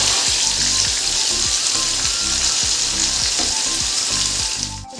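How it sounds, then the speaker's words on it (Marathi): Paneer pieces frying in hot oil in a home kitchen, giving a loud, steady sizzle that runs throughout, close up, with faint stirring noises underneath. "आपण आता इथं पनीर सुद्धा चांगलं फ्राय करून घेऊ।"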